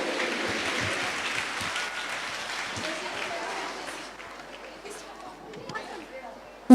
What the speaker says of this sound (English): Can we have a round of applause for them once again?